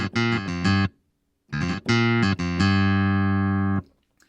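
Clavinet patch played on a keyboard, opening on a low G: short, bright, twangy plucked notes in two quick phrases separated by a pause, the last note ringing out longer before stopping.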